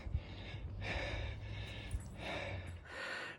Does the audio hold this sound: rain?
no